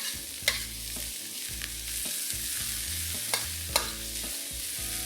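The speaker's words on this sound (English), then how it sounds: "Stir fry this till everything is fragrant" Spring onions and fermented black beans sizzle steadily in hot oil while being stir-fried, with a constant frying hiss broken by a few sharp scrapes and clinks of a utensil.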